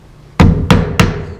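Three loud, close hammer blows drive 2-inch nails into a wooden sill, evenly spaced about a third of a second apart, each a sharp crack with a short ringing tail.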